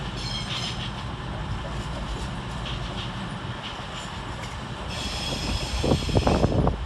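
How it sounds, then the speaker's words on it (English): East Midlands Railway train from Sheffield pulling into London St Pancras, a steady rumble of wheels on rails building toward the end, with squealing brakes and metallic screeches in the last seconds. "arriving to terminate with a East Midlands Railway service off Sheffield"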